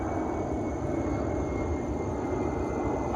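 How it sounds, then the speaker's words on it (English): An airplane passes overhead on a summer evening, a broad, steady engine rumble with a faint high whine, distant but filling the air, no voices over it. "We have more planes."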